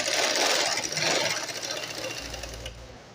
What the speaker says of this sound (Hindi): बेल्ट के ऊपर जो साइड वाला हिस्सा होता है इस पर 1/2 इंच की सिलाई लेंगे